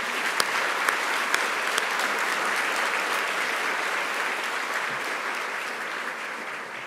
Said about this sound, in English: I'll give a round of applause to them